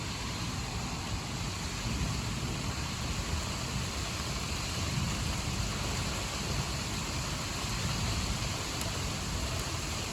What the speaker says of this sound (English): It is just a downpour out here.